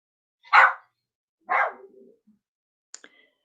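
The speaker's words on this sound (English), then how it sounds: "So I don't know what he's barking at." Indoors, a dog gives two separate sharp barks about a second apart, the second trailing into a low grumble, followed by faint clicks.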